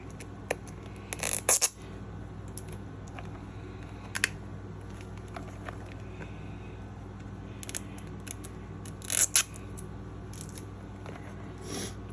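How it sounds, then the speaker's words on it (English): Unboxing of a Cherry Box subscription package, with scattered close crinkles, scrapes and sharp tearing snaps of packaging, louder bursts near the start and end over a steady low background hum, no talk. "Let's get this package open."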